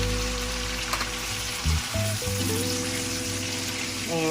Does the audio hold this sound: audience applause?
no